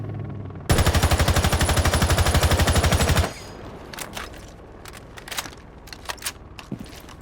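Zophia's gun in Rainbow Six Siege fires one sustained, loud full-auto burst of rapid, evenly spaced shots lasting about two and a half seconds, followed by faint clicks and handling noises.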